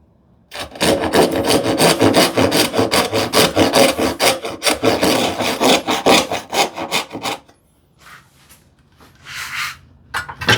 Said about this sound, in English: The crosscut, I will definitely go with this one, because that finer tooth actually really is a good thing here.